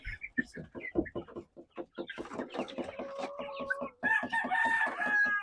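Chickens about two months old cluck in quick repeated bursts, close by, with a rooster-like call rising near the end and no talk over it.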